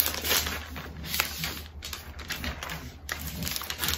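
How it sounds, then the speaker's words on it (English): Protective plastic is peeled off a new 2020 MacBook Pro, giving close crinkling and crackling with a few sharp ripping bursts, fairly loud and continuous, with no speech. "Now I'm going to take the plastic off of this."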